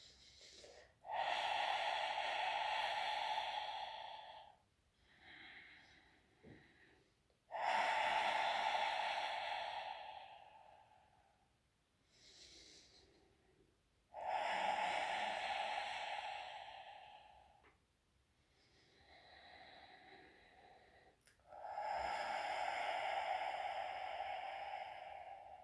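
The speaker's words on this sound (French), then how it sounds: "Essayez de trouver une respiration fluide." Slow, deep Pilates breaths, each long inhale or exhale swelling loudly and then fading, repeated in a steady cycle of about four big breaths with softer ones between, and no talk.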